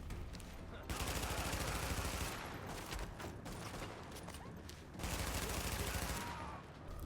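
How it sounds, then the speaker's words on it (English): Video game gunfire from The Division crackles in two sustained bursts of rapid automatic shots with shorter pops between, fairly quiet overall and heard alone. "still getting shot at from somebody"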